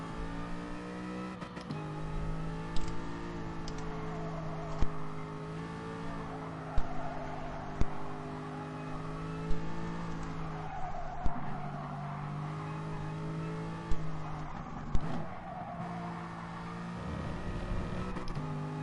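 An Aston Martin racing car engine in Gran Turismo Sport drones at high revs with shifting pitch, broken by sharp clicks and brief tire squeals, steady and moderately loud.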